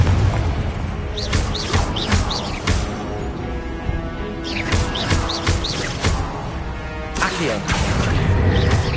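Confringo fire spells burst repeatedly in Hogwarts Legacy combat, with sharp whooshing casts and crackling blasts coming in close, irregular bursts among other spell effects over a busy battle bed.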